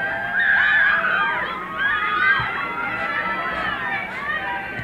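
Crowd at a boys' high school soccer game, Chazy versus Lake Placid, a continuous outdoor wash of cheering and shouting voices, loudest early on and staying steady throughout.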